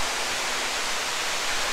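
Water pouring off the top of a walk-behind waterfall feature at Ocean Reef Resort in Myrtle Beach, South Carolina, a steady, close, dense hiss of falling water.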